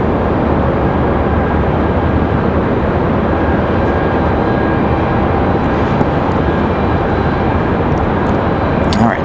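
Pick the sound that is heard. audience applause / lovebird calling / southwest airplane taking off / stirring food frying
southwest airplane taking off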